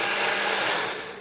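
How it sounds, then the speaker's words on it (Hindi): A blender whirs steadily at full speed, mixing a summer drink for an Urdu-Hindi home recipe. The motor roar is loud and close, continuous throughout, and tapers off slightly at the end. "और इसको ब्लेंड करेंगे।"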